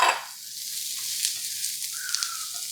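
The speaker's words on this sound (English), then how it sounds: "I'm going to put some sliced mushrooms in here." Sliced mushrooms and onions sizzle steadily in a 5-ply stainless steel skillet, a bright, continuous hiss with a louder burst at the start as they hit the pan and a few light stirring clicks.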